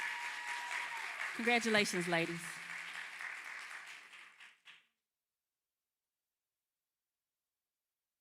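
Applause from the audience at a physician assistant class end-of-program ceremony, a dense wash of clapping with a voice speaking over it. It fades away after about five seconds, leaving silence.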